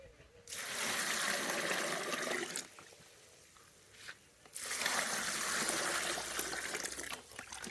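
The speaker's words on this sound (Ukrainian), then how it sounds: "І додаємо нашу воду з цукром до наших груш." Sugar water is poured onto pears for pear wine in two steady streams, a splashing trickle for a couple of seconds, a short pause, then pouring again, close and fairly soft.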